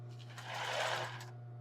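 A sewing machine stitches embroidered tulle for a bra in one short, quiet whirring run that swells slightly in the middle before easing off.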